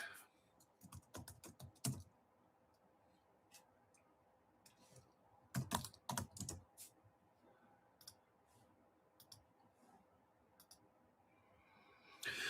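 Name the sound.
typing on a computer keyboard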